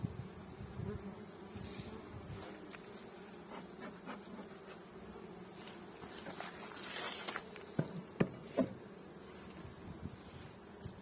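Honeybees hum steadily in a close, continuous drone, joined by scattered light taps and a few sharp knocks toward the end.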